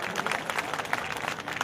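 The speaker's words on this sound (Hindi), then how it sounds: "जोरदार तालियां बजा करके इनका स्वागत करें।" A crowd at a Guru Ravidas Jayanti gathering in Barwala claps to welcome a guest, dense applause filling the room steadily and fairly loud.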